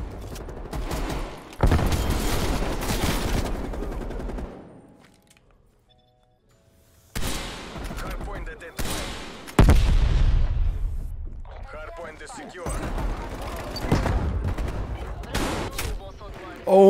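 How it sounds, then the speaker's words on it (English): Gunfire in Call of Duty Cold War comes in loud bursts of rapid shots and heavy booms, broken by a quiet gap before more firing resumes, with game sounds crowding the mix. "Oh my gosh, and we get sniped again."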